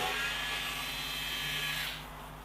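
A power driver whirs loudly and steadily for about two seconds backing T25 screws out of the plastic underbody cover of a Skoda Octavia Mk3 1.6 TDI, then winds down, with no speech.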